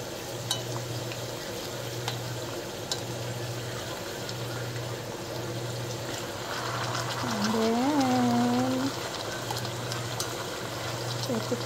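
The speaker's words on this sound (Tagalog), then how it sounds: "Let it fry muna. Fry ko muna." Potato slices fry in oil at the base of a pot of Persian tahdig rice, giving a steady, close sizzle that runs throughout, with a low hum in the background and a brief voice-like tonal sound near the middle.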